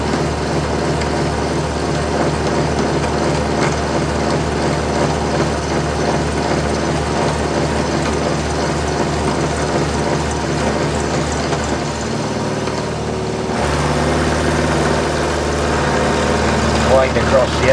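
A milling machine cutter spinning at just over 1000 RPM: a steady, loud mechanical drone with a cutting hum, shifting tone near the end, and someone speaking over it.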